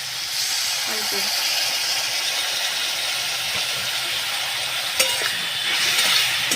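Taro stolons and prawns are sautéed in a pan for a Bengali village-style dish, giving a steady close sizzle with occasional spatula knocks and scrapes.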